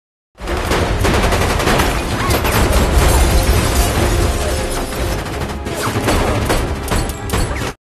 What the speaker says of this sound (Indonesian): Sehingga baku tembak pun terjadi, di mana mereka mencoba membunuh satu sama lain.